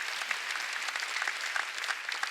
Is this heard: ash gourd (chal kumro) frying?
no